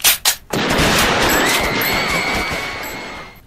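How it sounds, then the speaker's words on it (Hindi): Gunfire in a dramatised shooting at a meeting: two quick, loud shots ring out, followed by a sustained crackling burst that slowly fades. "उधम सिंह मंच की ओर गए, माइकल ओडॉयर पर गोली चला दी।"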